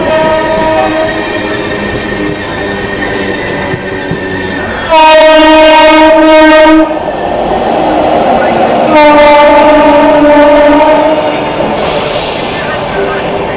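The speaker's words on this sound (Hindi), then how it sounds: "जम्मू तवी न्यू दिल्ली स्पेशल आ रहा भाई" A Jammu Tawi–New Delhi Special train rushes past near Meerut, its horn sounding in two loud, sustained blasts amid steady rumbling wheel and carriage noise close by.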